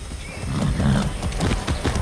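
A horse in Far Cry 6 whinnies over a steady clip-clop of galloping hooves, loud and close for the whole stretch, with no talking.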